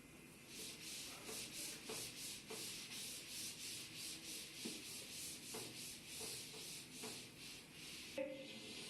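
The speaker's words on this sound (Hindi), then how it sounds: "इसको रब कर देता हूं ताकि ऊपर लिख लेंगे।" Rhythmic, close rubbing strokes as writing is wiped off a classroom board during a ninth-grade physics lesson, a steady scrubbing swish repeating about once per second without speech.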